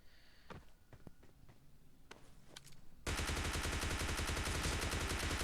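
Video game gunfire: a few sparse shots and footsteps, then a loud continuous burst of rapid automatic fire that takes over the second half and keeps going without a break.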